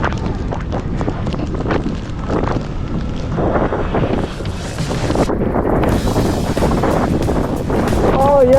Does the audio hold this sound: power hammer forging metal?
no